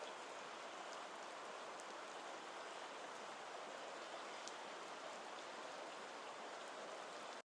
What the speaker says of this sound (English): And then we have this other city rain recording here.